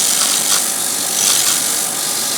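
Sandpaper rubs against a freshly cut, still-damp wooden ornament spinning on a lathe, a loud, continuous close scratching hiss with a slight rhythmic surge.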